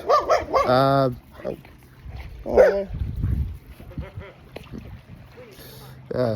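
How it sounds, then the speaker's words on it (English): A neighbor's dog barks and yelps outdoors in a few sharp bursts with pauses between, moderately close, and someone talks over and between the barks. "Neighbor's dog."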